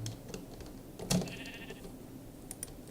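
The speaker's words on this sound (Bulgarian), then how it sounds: "Ето тук направих ферма за овце" A sheep bleats once in a pen on a sheep farm in Minecraft. The short, clear call stands out over faint clicks and soft background game noise.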